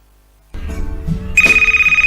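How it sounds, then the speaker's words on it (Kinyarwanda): A telephone rings inside a house with a steady, pulsing electronic ringtone that starts partway through, loud and close, after a stretch of low room sound. "telefone irasona."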